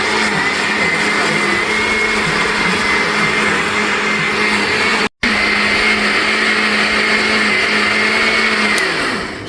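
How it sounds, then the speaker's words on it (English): A blender whirring at a loud, steady whine, briefly cut off for an instant and then resuming at the same pitch, close and continuous with no voices. "Take a peep in at the blender."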